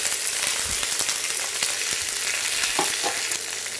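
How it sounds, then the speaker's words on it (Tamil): Green chillies and onions sautéing in oil with mustard seeds, curry leaves and ginger for a chickpea-flour chutney, a dense continuous sizzle with light stirring clicks, close and without speech. "பச்சை மிளகாவும் வெங்காயமும் சேர்த்துடலாம்"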